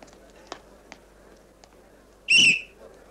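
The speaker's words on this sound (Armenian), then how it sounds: "Սուլել, սուլել։" A whistle is blown once in a short, loud, shrill blast near the end, after several faint clicks and knocks in a quiet room.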